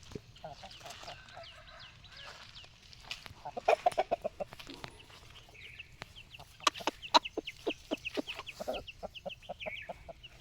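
Chickens cluck in bursts, a run of rapid sharp calls rising mid-way, with quieter clucking and chirps around it.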